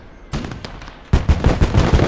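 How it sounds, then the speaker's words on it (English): Flak cannon firing in the WWII strategy game Call to Arms – Gate of Hell, sharp cracking shots that start as a few spaced reports and then become a rapid rhythmic burst of loud close bangs. "Now the flat cannon is now shooting across I believe at my anti-tank, my artillery piece."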